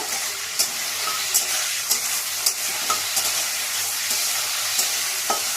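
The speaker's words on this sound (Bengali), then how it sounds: "এবারে সাদা তেলে আমি রসুনের কুচিটা দিচ্ছি।" Chopped garlic fries in white oil with a loud, continuous hissing sizzle broken by regular spoon scrapes roughly every half second, close up and without talk.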